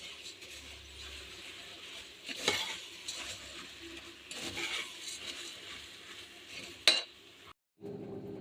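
Steady stirring and scraping of gram flour being mixed into ingredients in a pan, with a gentle sizzle, a few utensil knocks and a sharp clack near the end, no voices.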